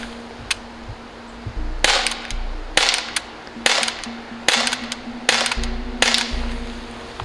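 A gun firing at pumpkins outdoors on a Halloween shoot, seven sharp loud cracks in an uneven rhythm, each with a short ringing tail, over a faint steady hum with no talk.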